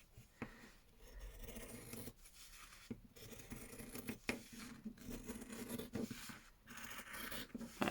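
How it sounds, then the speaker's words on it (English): Scissors snipping out handmade paper tags for a junk journal, a run of close, dry cuts and rustling paper strokes with brief pauses between them, no talking. "And then we're just going to cut them out."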